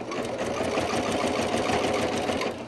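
A sewing machine stitches a quilted market bag, running in a steady, continuous whir at close range with no pauses and no voices.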